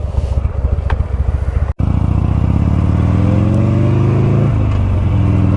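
A Buell motorcycle engine, heard close and loud, blips and rev-matches through a downshift, with a brief cut before the revs rise and sweep upward again.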